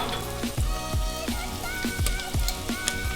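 Chopped onion sizzles in a hot frying pan, a dense steady crackle of frying broken by regular, repeated thumps and scrapes of stirring or tossing, close and loud with no speech.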